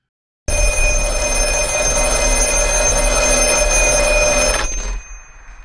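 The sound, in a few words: telephone ringing in The Black Phone trailer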